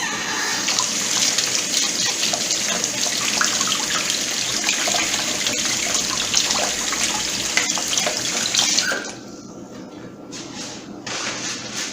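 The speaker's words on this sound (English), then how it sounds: "And wash my hands, you guys." Water runs steadily from a kitchen tap as hands are washed beneath it, a continuous close splashing that cuts off near the end, leaving quieter trickles and drips.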